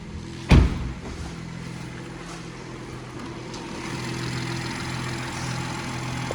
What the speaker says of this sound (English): So this is the beast, the 6-cylinder twin-powered turbo engine